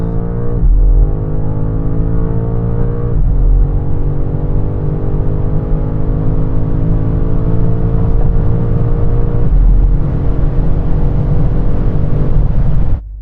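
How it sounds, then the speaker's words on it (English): BMW M5 launching hard off the line on a test track, a loud close engine roar climbing steadily in pitch through several gear changes with brief dips between them, then cutting off abruptly at the end. "Finally then, the BMW. That struggled off the line."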